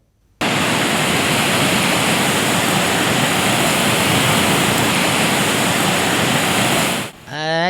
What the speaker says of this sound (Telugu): వాగు వామ్ము ఇక చూడు ఎట్లా ఉధృతంగా పోతున్నది